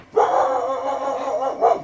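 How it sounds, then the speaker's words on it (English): Shop dog barking inside a garage, a loud, drawn-out bark or yowl followed by a second shorter one, close and clear with no talk. "Don't mind the shop dog."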